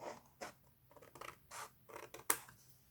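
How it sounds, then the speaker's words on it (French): Scissors snipping along the sides of a paper box lid for a handmade mini album, a series of short close crisp cuts, one sharper snip near the end. "je coupe un petit peu de chaque côté"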